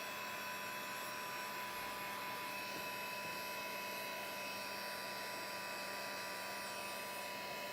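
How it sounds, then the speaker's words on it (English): A heat gun for heat embossing runs on and warms up, a steady, even blowing hum with a faint high whine that holds unchanged throughout, close by and with no talking. "I have my heat gun here with me. So for heat embossing, I'm going to turn it on"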